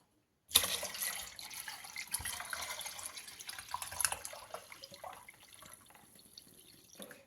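Water is strained from soaked tea bags and rinsed into a container for a berry wine, a close trickle and patter of draining liquid with small drips that starts abruptly and fades out.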